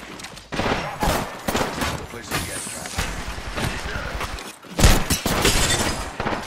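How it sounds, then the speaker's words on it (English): Apex Legends firefight with dense rapid gunfire and a heavy grenade-like blast near the end, loud and close, amid chaotic battle noise. "That's grenade."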